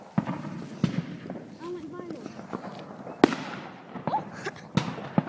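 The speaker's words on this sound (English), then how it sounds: "today we're watching fireworks" Fireworks on an American Independence celebration night, sharp booming bursts at irregular intervals with crackling tails, heard from a distance while people talk nearby.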